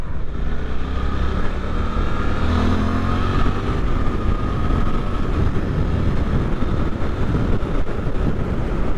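A 2024 Suzuki GSX-8R motorcycle engine pulls hard under acceleration with a steady, loud drone and a rising pitch, buffeted by heavy wind noise as it rides.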